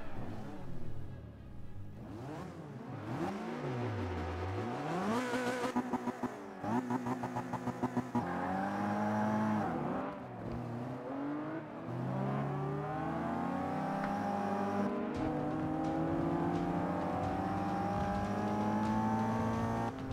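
A car engine in the racing game Forza 5 revs and shifts through gears, rising and falling in pitch as it accelerates, loud and continuous with no talking.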